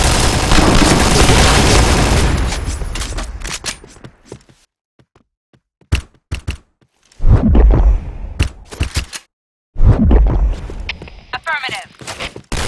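Several grenade explosions in the shooter game Point Blank, sharp loud booms repeating among gunfire and footsteps, with a voice calling out between blasts.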